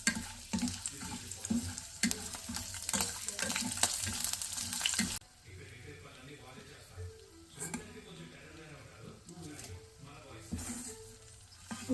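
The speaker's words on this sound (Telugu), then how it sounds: "అదే ఆయిల్లో ఎల్లిపాయలు వేస్తున్నా" Sliced onions dropped into hot oil left from deep frying crackle in a loud, dense sizzle that settles into a softer, steady bubbling halfway through, with occasional stirring scrapes.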